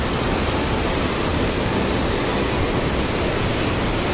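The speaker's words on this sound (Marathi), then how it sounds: "धबधबा पूर्ण खालून असं जातो" A waterfall roars in a continuous, dense wash of falling water beneath a glass bridge, loud and unbroken, with no voices.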